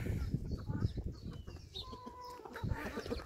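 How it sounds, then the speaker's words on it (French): Hens clucking and murmuring close by, short irregular calls with rustling and outdoor background noise. "ça n'empêche pas Pimousse de faire des rondes autour des poules"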